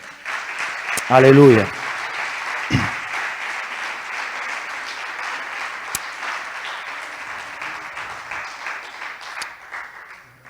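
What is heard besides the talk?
congregation applauding in church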